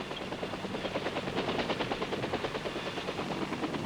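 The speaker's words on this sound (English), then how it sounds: "Assault helicopters arrive in their pre-designated pickup zones." Military assault helicopters arrive at pickup zones, a dense rapid rotor chop thudding continuously with a roaring engine underneath, loud and close throughout without any voices.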